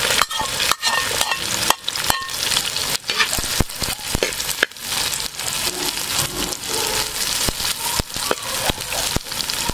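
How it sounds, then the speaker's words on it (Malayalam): Thirty onions and eight green chillies sizzle loudly in a pan, frying steadily while a spoon scrapes and stirs in frequent knocking strokes close by. "ഇതിലേക്കായിട്ട് നമ്മൾ ഉള്ളി, പച്ചമുളക് ഇതെല്ലാം കൂടി ഒന്നിച്ചിട്ട് കൊടുക്കണം."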